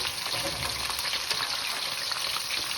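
Strips of beef deep-frying for crispy chilli beef make a dense, loud, even sizzle and bubbling hiss that holds steady throughout, close and without any talking.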